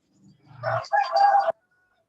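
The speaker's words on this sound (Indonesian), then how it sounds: "Ini jago siapa ini?" A single rooster crow rings out close by, a low opening note rising into a long sustained call that stops abruptly, with quiet before and after.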